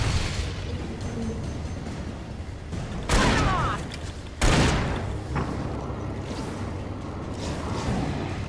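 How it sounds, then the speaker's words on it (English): Flare gun shots in the survival horror game Alan Wake, two sharp loud bursts with hissing, crackling tails rising out of a dense, noisy backdrop of game ambience. "Let's hit him with the flare gun"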